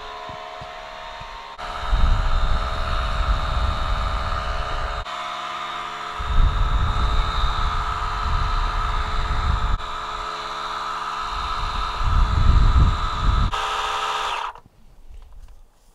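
A DeWalt inflation station runs steadily as it pumps up a car tire, a continuous buzzing compressor drone with a pulsing low rattle, holding at even loudness before cutting off abruptly near the end.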